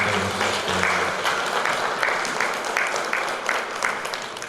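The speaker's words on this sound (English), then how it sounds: "A round of applause for the pastor" Clapping from the audience at a Tongan graduation celebration for a Bachelor of Education, honouring a pastor: a steady, moderately loud patter of many hands with a low hum and faint background voices underneath.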